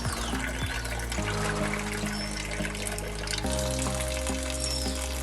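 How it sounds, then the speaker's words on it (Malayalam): Continuous stream of water rushing through a car radiator during a flush, a steady, close, fairly loud splashing flow with no talking. "കണ്ടിന്യൂസ് ആയിട്ട് വെള്ളം വിട്ട് റേഡിയേറ്റർ ഫ്ലഷ് ചെയ്തെടുക്കുക"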